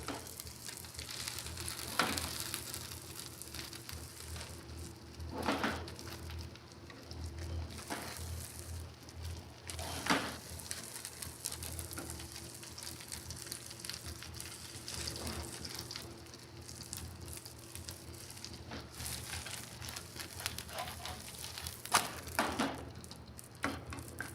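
Seafood okonomiyaki frying slowly in a pan over low heat, a steady soft sizzle running throughout with a few brief louder bursts and scrapes, quiet and close with no talking.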